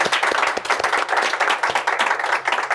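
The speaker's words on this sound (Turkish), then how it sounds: "Alkışlar Kubilay Akay gelsin." Audience clapping at a Turkish stage show, a dense burst of applause with sharp individual claps that stays steady and fairly close for the whole stretch.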